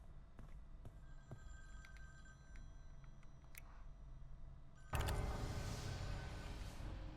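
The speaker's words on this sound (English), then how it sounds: "That phone will keep ringing and ringing and ringing until you get to it." An old-style telephone bell rings repeatedly inside a cabin in the Friday the 13th video game, thin and fairly faint over low ambience, before a louder, broader noise swells in near the end.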